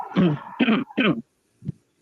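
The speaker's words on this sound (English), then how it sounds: "When I was clearing my throat" A person clears their throat and coughs in three loud, rough bursts close to the listener, then gives one short, quieter grunt after a pause.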